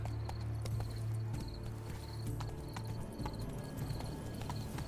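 Rhythmic clip-clop of horse hooves at a steady gallop in the video game The Witcher 3: Blood and Wine, close and continuous, over a low droning background.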